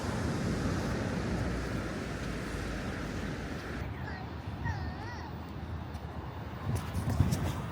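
Strong sea waves on a rainy day at the Busan coast give a constant, loud surf roar with wind noise across the whole stretch, and a faint voice appears briefly partway through.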